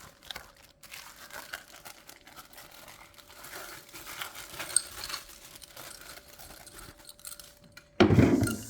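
A small bunch of keys jangles and clicks near at hand as each one is tried in a wine cooler's lock, with a louder metallic rattle at the very end.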